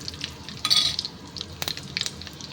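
Fenugreek, mustard seeds, dried red chillies and ajwain dropped into hot oil in a pan, giving a light crackling sizzle with sharp spits and a clink of a utensil against the pan.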